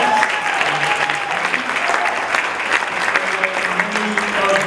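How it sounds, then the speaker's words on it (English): Applause at a Rotary club meeting, a dense, steady clatter of many hands clapping throughout, close and fairly loud, with some voices mixed in. "We'll give her a big round of applause."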